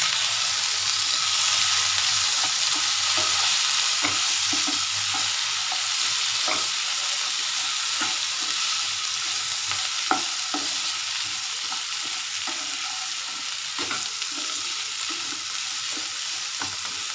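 Onion, green chili, garlic and ginger masala frying in a pan for a bottle gourd kofta curry, a continuous close sizzle with occasional sharp spoon scrapes and stirring clicks, no talking.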